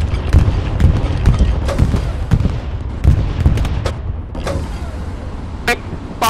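Bombing-run explosions in the Hell Let Loose video game: a series of sharp, loud blasts and thuds in irregular succession, mixed with background battle noise and some voices.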